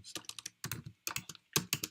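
A computer keyboard typed on at a desk, quick bursts of close, crisp key clicks in four short runs separated by brief pauses, no talking.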